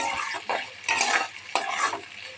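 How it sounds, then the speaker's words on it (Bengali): Potatoes frying in oil with carrots in a pan, stirred with a utensil in short scraping bursts over a steady sizzle. "এবার একটু আলুগুলো আমি নেড়ে নেব"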